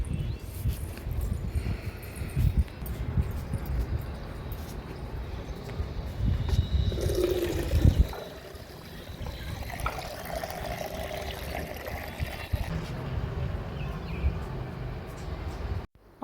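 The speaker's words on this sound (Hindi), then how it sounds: "छत पर भी पेड़ों में पानी डाल देते हैं।" Plants are watered on a sunny rooftop at about 5 pm. Water pours and splashes in a steady rush, briefly easing midway before continuing at a slightly lower level, close by, with no talking.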